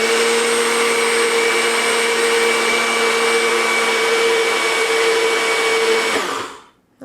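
A kitchen blender grinding quinoa into powder runs as a loud, steady whirring motor with a high whine for about six seconds, then cuts off and spins down to silence.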